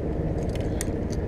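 A bunch of keys jingles outdoors on a windy day, giving a few brief metallic clinks over a constant low rumble of wind and nearby traffic.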